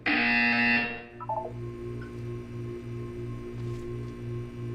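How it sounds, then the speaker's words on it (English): A buzzer in the video game Portal 2: a loud, harsh electronic buzz for about a second, followed by short beeps and a quiet pulsing electronic hum. "You will hear a buzzer."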